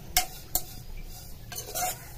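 Spoon stirring a kobbari ravva laddu mixture of coconut and semolina with raisins in a pan, giving a few brief scraping clinks against the metal over a soft background, with no talking.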